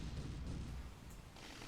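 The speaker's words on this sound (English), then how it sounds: "It's launching missiles and firing plasma beams at us" Sci-fi space combat from the game Ruined Horizons, with missiles launching and plasma beams firing: a dense, rumbling barrage of blasts and booms that stays loud, then thins slightly toward the end with a brighter hiss.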